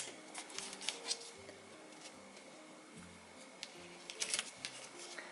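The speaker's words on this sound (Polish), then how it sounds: "Chwytam za tę część i składam zobaczcie, do środka." Paper being folded into an origami heart, close soft rustles, creases and scraping taps in an irregular rhythm over a faint background tone, with no talking.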